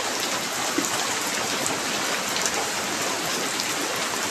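Heavy rain pours down steadily in a continuous dense hiss with no pauses, loud and close, with no voices over it.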